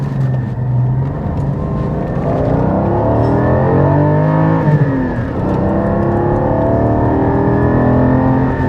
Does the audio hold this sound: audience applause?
no